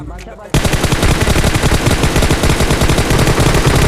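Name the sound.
gunfire in video game PUBG Mobile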